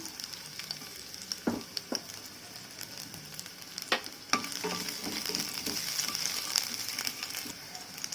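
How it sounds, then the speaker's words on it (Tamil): Thinly sliced white garlic, five cloves, frying in hot oil in a pan, giving a steady hiss with scattered crackles and a few sharper pops, fairly close and without talk. "அஞ்சு வெள்ளை பூண்டு அந்த மாதிரி தின்னாக வந்து ஸ்லைஸ் பண்ணி வச்சுருக்கேன் இப்போ இதை சேர்த்துக்கலாம்"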